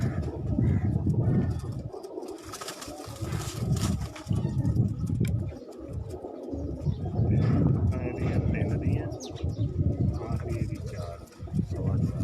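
Pigeons coo repeatedly in a low, murmuring rhythm close by, with people talking over them throughout.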